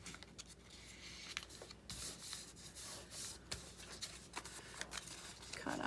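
A sheet of paper is folded in half and creased by hand, giving soft, close rubbing and sliding sounds with a few short crisp scrapes, fairly quiet and continuous.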